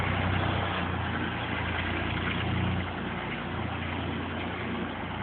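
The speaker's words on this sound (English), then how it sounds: "it's the way the engine runs" A Fordson Dexta tractor engine running in low gear, a steady low, rough drone with a slight dip partway through, close and continuous with no talking.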